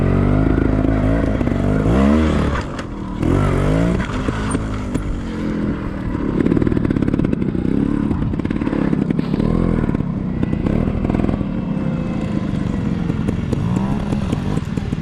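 Trials motorcycle climbing a hill outdoors, its engine revving hard in rising bursts with a brief throttle drop, loud and close throughout, with no talk over it.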